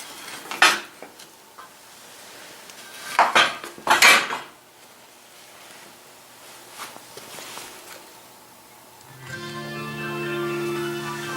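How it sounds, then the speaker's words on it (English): Metal parts on a Polaris 335 engine clank and rattle as the lid is handled and set back in place, with a few loud close knocks and scrapes in a quiet workshop, then a steady hum toward the end. "Putting the lid back on the motor."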